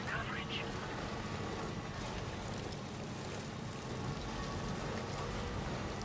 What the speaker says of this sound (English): It has been raining for a hot minute. Like, this rain has just been going.